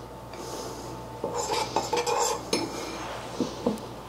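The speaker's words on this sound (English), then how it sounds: "So let's put about 2 tablespoons of sweet cinnamon syrup" About two tablespoons of sweet cinnamon syrup spooned into a cup, with a run of metal spoon clinks and taps against the cup, close and moderately loud, with no talking.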